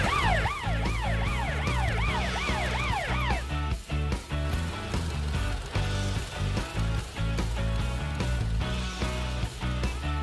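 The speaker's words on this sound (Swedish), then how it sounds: "Glöm inte att använda din siren och ditt blåljus, Amber" An emergency vehicle siren wails in a children's cartoon about cars and trucks, a loud, rapidly rising and falling tone that gives way to busy, rhythmic music and vehicle sounds.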